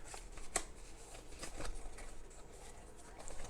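Paper rustles and crinkles while a Theragun Pro 4th-generation massager box is unpacked, with soft shuffling handling noises and a sharper crackle near the start, close up and without talk.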